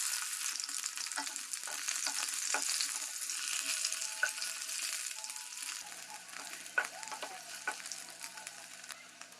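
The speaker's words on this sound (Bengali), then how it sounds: "ফ্রাইং প্যানে তেল দিয়ে দেব আলুগুলোকে হালকা হালকা লাল লাল করে ভেজে তুলে রেখে দেবো" Boiled small new potatoes frying in oil in a frying pan, a continuous close sizzle with scattered light pops and occasional soft stirring scrapes, no speech.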